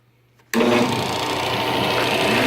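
An electric sander works MDF with a shop vac running for dust collection, kicking in abruptly after a quiet half-second and then holding a loud, steady whirring drone to the end.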